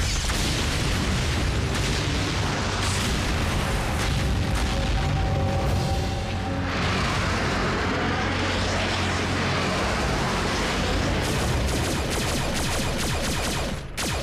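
A gas station blowing up in a Transformers Prime cartoon episode: a loud, sustained roaring boom with rumbling debris that swells and rolls on for many seconds, dubbed in Hindi, with no speech over it.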